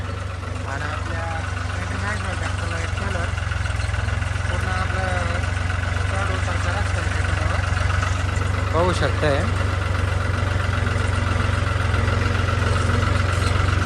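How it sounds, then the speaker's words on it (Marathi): An old tractor pulling a trailer over a badly broken road, its engine chugging steadily at low revs with a constant deep drone, while someone talks over it. "ओल्ड ट्रॅक्टर चालवायची मजाच वेगळी आहे भाऊ"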